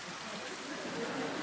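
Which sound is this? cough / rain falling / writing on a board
rain falling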